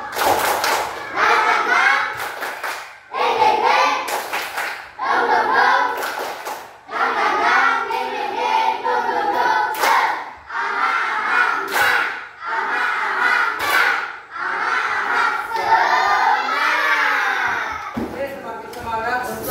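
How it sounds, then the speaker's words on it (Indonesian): A fourth-grade class chants and claps together in a rhythmic spirit clap, bursts of sharp synchronized hand claps punctuating loud group chanting voices in repeated patterns. "Oke, kita tepuk semangat ya. Tepuk semangat."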